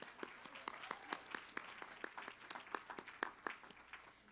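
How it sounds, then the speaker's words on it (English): Applause from an audience at a children's cultural program, honoring a group of little performers; a steady patter of individual claps, moderately distant and fairly quiet, continuing without pause. "Give the little ones another round of applause."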